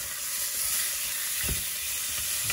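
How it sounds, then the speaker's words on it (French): Beef pieces browning in a hot pan for a tajine give a steady, dense sizzle throughout, with a brief louder burst of frying midway and no talking. "Je vais juste les faire dorer."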